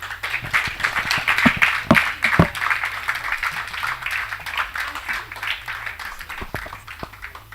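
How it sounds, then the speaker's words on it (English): An audience at a youth church conference applauds, a sustained wash of many hands clapping together, with a few sharper claps standing out. "Another round of applause to Louise."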